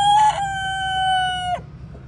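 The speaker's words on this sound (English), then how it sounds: "our little white leghorn chicken" A white leghorn hen in a backyard coop gives a single loud, drawn-out tonal call lasting over a second, close by and clear, with no voices.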